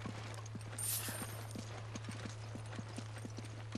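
Donkey hooves clop steadily in a walking rhythm in the video game Resident Evil 5, faint and quick, over a constant low hum of game background.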